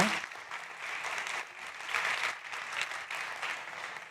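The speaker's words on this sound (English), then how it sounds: "big applause for Jordi" Steady applause from a startup competition audience for a presenting founder, a moderate wash of many hands clapping continuously for a few seconds without talk.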